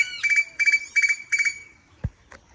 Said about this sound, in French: Vous entendez ces oiseaux? C'est juste magique.